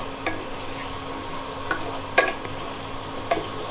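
Prawns frying in a pan for a banana-flower dish, giving a continuous low sizzle with a few brief clinks and scrapes of a spatula, close and fairly quiet.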